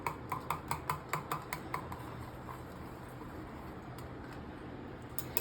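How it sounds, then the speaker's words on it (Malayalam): A spoon or whisk stirs watermelon and ice cream shake ingredients in a bowl, giving a quick run of close, light clinks for about two seconds before settling into a soft, quiet mixing hiss. "ഇനി നമുക്കിതിന് കുറച്ചൊന്ന് മിക്സ് ചെയ്യാം"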